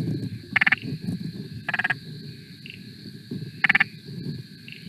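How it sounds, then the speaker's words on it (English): Spotted marsh frog calling at night, three short rapid-fire bursts of clicking knocks like a machine gun, spaced a second or two apart over a murmur of other frogs and insects. "Third on the list is the spotted marsh frog, which kind of sounds like maybe like a machine gun."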